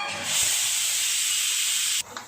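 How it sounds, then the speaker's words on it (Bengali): A pressure cooker vents steam through its whistle in a home kitchen during breakfast cooking: one loud, sharp, continuous hiss lasting nearly two seconds that then cuts off abruptly. No one speaks. "সিটি পড়ে গেছে, প্রেসার কুকারটা নামিয়ে"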